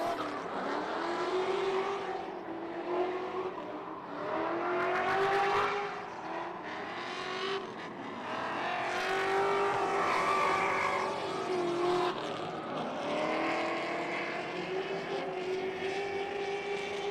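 A drift car on a competition run at Lake Erie Speedway, its engine roaring and rising and falling in long bouncing revs across the whole stretch, loud and continuous with no talk.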